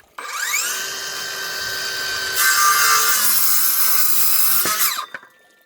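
A miter saw crosscuts a 50 mm wooden board, spinning up to a loud whine, biting into the wood with a harsher, brighter rasp midway, then winding down as the cut finishes, close and alone.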